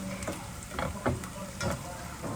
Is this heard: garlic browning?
yes